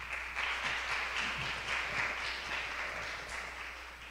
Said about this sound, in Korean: 박수 한 번 더